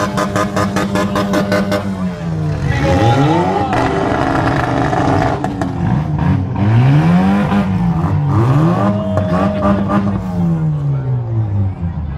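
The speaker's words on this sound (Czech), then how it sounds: "když závodníci budou tunovat ty motory" Race car engines rev loudly at a motorsport event, rising and falling in repeated sweeping vroom bursts, close and powerful, with crowd noise underneath.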